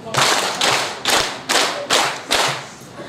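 Audience at a session on digital and social media clapping together in a clapping game: six broad, heavy claps in a steady, slightly slowing rhythm, loud and close, with no voices.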